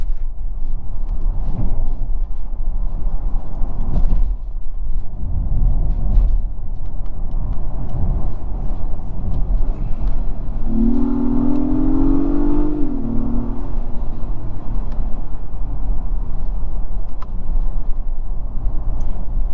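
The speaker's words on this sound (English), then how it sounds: "You can see the 10 shifts, the 10 speed just cracks off those shifts." A 2022 Acura MDX Type S Advanced SUV accelerates hard through its 10-speed automatic gearbox, heard loud from inside the cabin as a sustained engine roar with a rising whine partway through, and no talking.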